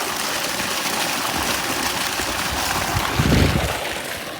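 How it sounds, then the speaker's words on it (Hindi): Water pours steadily onto seeds soaking in a container before they are scattered on a farm field, making a continuous rushing splash that swells briefly near the end. "अब डाल लेता है थोड़ा सा पानी इसमें।"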